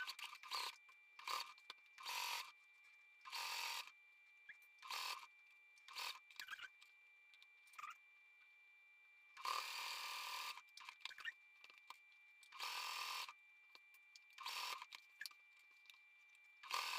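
A sewing machine stitches a pocket in repeated bursts of whirring, short and long runs separated by quiet pauses, close and clear with no talk.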